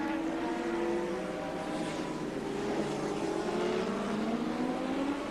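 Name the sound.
twin-cylinder racing motorcycle engine in a street race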